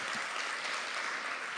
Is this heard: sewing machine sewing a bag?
no